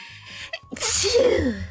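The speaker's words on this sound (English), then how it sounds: "Sorry, I sneezed." A single sharp human sneeze: a brief nasal intake, then a loud explosive burst trailing off into a breathy exhale, close to the microphone.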